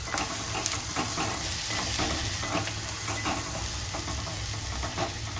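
Garlic fries in hot oil in a pan while batata poha is prepared, producing a loud, continuous close sizzle with faint clicks of stirring throughout.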